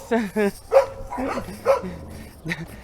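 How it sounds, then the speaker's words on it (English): Several dogs bark in short bursts, close and fairly loud, with whimpering yips mixed in and a voice speaking between barks. "All the dogs are barking at me."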